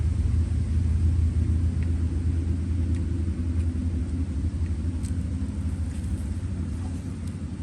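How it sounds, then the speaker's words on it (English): Motorcycles passing on a nearby street, heard as a continuous low engine rumble that stays fairly steady and slowly fades slightly, with no talking. "I hear a whole bunch of motorcycles right now."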